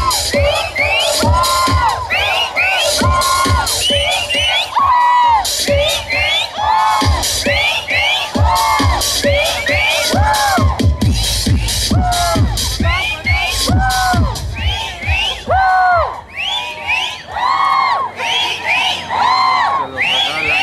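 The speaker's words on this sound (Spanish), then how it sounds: "¿Cómo está ese grito? ¿Cómo está ese escándalo?" Rodeo crowd at a Texcoco ballet rodeo show, shouting, whooping and cheering loudly in repeated surging bursts with high yells throughout.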